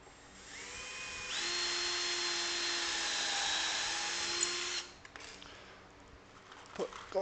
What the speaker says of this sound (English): Go ahead and put one screw in there before I drill the rest of the pilot holes.